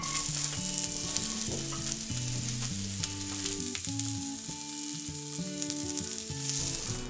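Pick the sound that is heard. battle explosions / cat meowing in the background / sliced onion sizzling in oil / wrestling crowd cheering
sliced onion sizzling in oil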